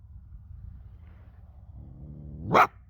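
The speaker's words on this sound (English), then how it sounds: "You're just gonna bark?" A trapped coyote gives a single short, sharp bark near the end, rising out of a low rumbling background after a stretch of quiet.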